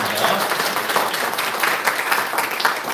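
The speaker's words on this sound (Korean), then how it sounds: "우리 한 번 더 환희 박수 드리겠습니다." Steady, dense applause from a church congregation at the close of a Sunday worship service, sustained at an even level for the full few seconds.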